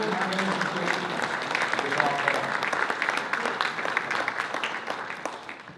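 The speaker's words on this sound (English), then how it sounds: "Give them a round of applause" Round of applause at a leadership awards event honoring Bruce and June Taylor, a sustained crowd clapping of moderate loudness lasting several seconds without speech.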